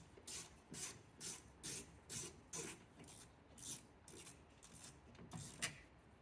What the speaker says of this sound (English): We just need a 7mm wrench or socket to get the one bolt that holds the speaker on out